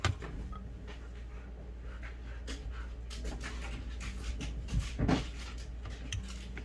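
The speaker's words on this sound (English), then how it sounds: "It's been a long time since we've had puppy noises in the house." A puppy pants quietly indoors in quick, steady breaths over a low hum, with a few faint whimpers and small knocks in between.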